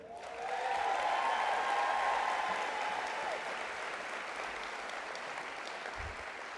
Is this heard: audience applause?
yes